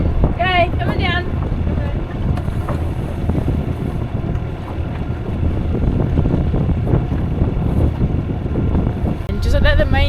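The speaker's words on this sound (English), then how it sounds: "we're just going to motor in for the last mile or so because we'll pretty much be going straight into the wind through here" A sailboat motoring into a headwind near an anchorage in Greece, with steady engine drone and wind buffeting the microphone, and brief voices speaking at the start and near the end.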